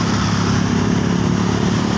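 A motorcycle engine runs steadily and loudly nearby, its exhaust giving a continuous rumbling drone.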